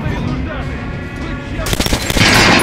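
Rapid bursts of gunfire in the video game Metro: Last Light rattle throughout, growing louder and denser toward the end, with a steady background hum.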